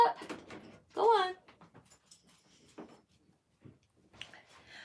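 A dog whimpers in short, high whines and yips while asking to be let out, fairly close. A person talks before and between the whines in a quiet indoor room.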